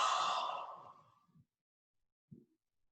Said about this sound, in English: Now stretch your arms overhead, a full body stretch with a big yawn.